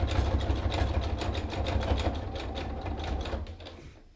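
Sewing machine stitching over the coiled layers of a rope basket to finish it, a steady fast mechanical whir with rapid needle clatter running throughout, close and fairly loud, stopping just before the end.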